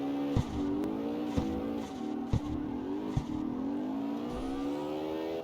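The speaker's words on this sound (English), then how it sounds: "Hold that drift as long as we can." A drift-built car in CarX Street revs its engine in a long, sustained drift, pitch rising and wavering, with a few sharp clicks or bumps punctuating the moderate, continuous engine tone.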